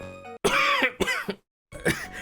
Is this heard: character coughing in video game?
yes